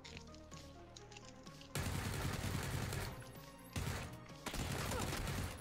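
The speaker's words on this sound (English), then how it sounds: "I think we can push back towards these gunshots." Distant gunfire in the battle royale game PUBG, bursts of shots echoing across the map in loud sustained volleys with short pauses between them, no talk over it.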